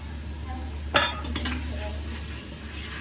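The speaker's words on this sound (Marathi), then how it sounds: "टॅमॅटो प्रॉपर आता एकजीव करून घ्यायचं आहे" Tomatoes and onions being stirred into gravy in a pot while making dal khichdi, a low sizzle under a few quick metallic scrapes and clinks of a spoon against the pot, with a steady background hum.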